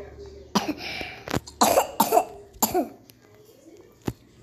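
A child coughs repeatedly in several harsh, close bursts with short pauses between them, followed by one last cough.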